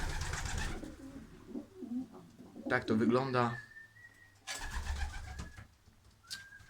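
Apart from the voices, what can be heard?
pigeons cooing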